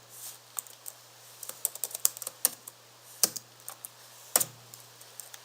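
Close clicking of computer keyboard keys while C++ code is typed, in uneven bursts of quick taps with a few sharper, heavier keystrokes and short pauses between them, alone and fairly quiet.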